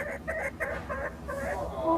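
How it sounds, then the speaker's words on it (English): Silkie chickens clucking in a steady run of short, close calls from a small backyard flock, with chatter continuing across the whole stretch and faint voices underneath. "But listen to the chicken."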